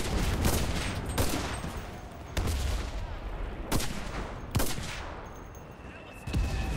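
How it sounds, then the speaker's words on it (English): Artillery and gunfire in the World War II D-Day video game Enlisted: several sharp, loud blasts and shots spaced a second or so apart over a rumbling battlefield background. "artillery coming down on me"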